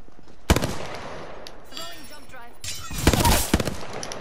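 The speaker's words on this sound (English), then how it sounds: "They're shooting someone else." Video game gunfire rings out in sharp bursts, first a single loud shot, then a denser volley of rapid shots near the end, with quieter battle noise in between.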